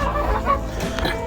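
Chickens clucking inside a hen house, a short close burst of steady clucking and murmuring from several hens.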